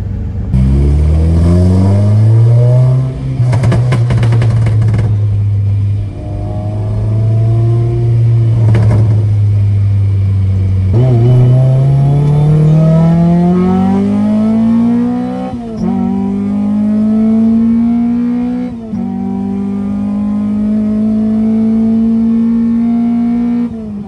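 A car engine drones loud and close as the vehicle drives, climbing in pitch through repeated revs and gear changes, with a few short dips between rising pulls.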